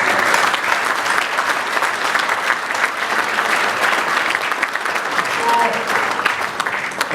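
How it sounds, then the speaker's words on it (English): An audience at a charity anniversary event claps together in a dense, continuous round of applause, loud and even from start to finish. "So clap yourselves."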